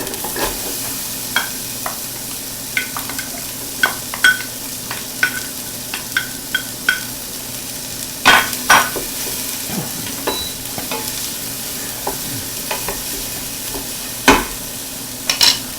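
Onions going into a pan for beef Bolognese and being stirred, with scattered scraping clicks and knocks from a utensil over a low, steady cooking hiss, close and fairly loud.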